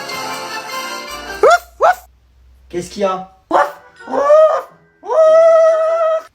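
A pet dog barks and yips in a few short bursts close by at home, mixed in with a person's speech.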